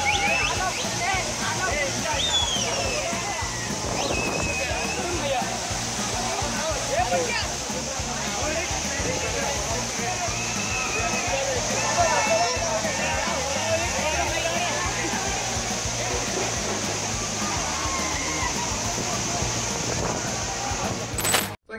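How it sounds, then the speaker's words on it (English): Fast-flowing floodwater during a storm in China rushes in a steady, loud, unbroken roar that holds at an even level throughout before cutting off abruptly at the end. "fast flowing water"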